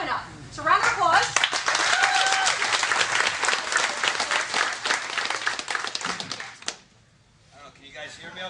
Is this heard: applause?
yes